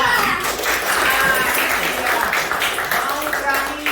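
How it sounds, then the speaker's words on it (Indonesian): Schoolchildren in a classroom applaud a classmate with a continuous wash of clapping, fairly loud and steady for a few seconds, with some voices mixed in. "kasih tepuk tangan untuk Ridwan"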